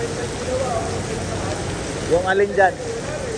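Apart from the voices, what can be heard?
heavy rain pouring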